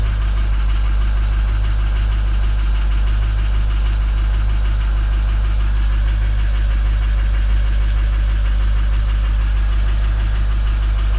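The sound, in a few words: car engine cold start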